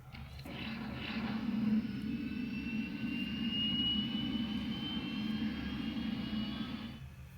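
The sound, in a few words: 2010 Hess toy jet plane engine starting sound effect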